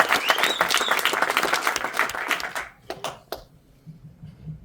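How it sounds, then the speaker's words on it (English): An audience at a Dubai leadership and founders event applauds the founders with dense, loud clapping for a few seconds. The applause then thins into a handful of scattered claps that fade out. "Okay, so once again, one applause for our founders."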